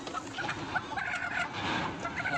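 A hen clucking on a village farm, with a flock of fowl chattering in a continuous busy background of clucks and calls at moderate distance.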